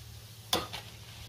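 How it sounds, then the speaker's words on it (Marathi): Cashews frying in oil for sabudana chivda make a faint background sizzle broken by one brief spoon stir and scrape, with no talking. "आता हे काजू सुद्धा मी तळून घेणार आहे।"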